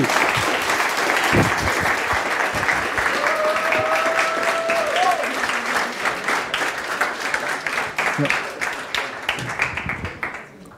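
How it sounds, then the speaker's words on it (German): Audience applause at a Jugend hackt youth hackathon in Hamburg: continuous loud clapping from a crowd that thins out toward the end into scattered claps, with a brief whistle-like tone partway through. "Ein Applaus für den leeren Akku."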